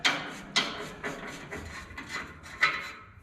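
A rusted, carbon-fouled oxygen sensor on a 1993 Cobra is worked back and forth with a wrench, giving a series of close, gritty scraping and creaking strokes at an uneven rhythm, fairly quiet.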